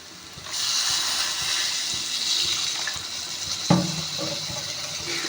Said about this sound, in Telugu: దీంట్లో అయితే మనం వాటర్ అనేది అయితే యాడ్ చేసుకుందాం